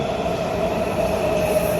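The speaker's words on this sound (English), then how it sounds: "Today, both trains are arriving." Metro trains pulling into a Washington, D.C.-area station on the Green Line near Fort Totten, a loud, steady rumble of rail cars with a thin, sustained wheel squeal running throughout.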